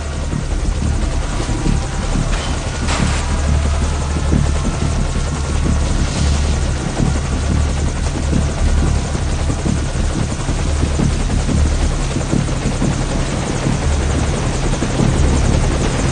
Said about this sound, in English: the enemy has spotted our helicopter